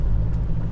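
A 2024 Toyota HiLux 48V hybrid pushes through a muddy bog hole off road, giving a brief, close, low rumble of engine and tyres with a wind-buffeted hiss on top.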